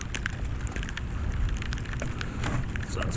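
Steady rain patters and hisses close by on a Saturday morning while someone works outdoors with a Trek DS 1 hybrid bicycle, scattered drops ticking over a constant wash.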